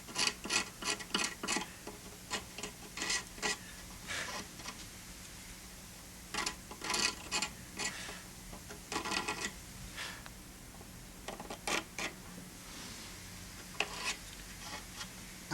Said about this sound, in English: Just want to clean out the glue that was holding it in, because I want to put new glue in there.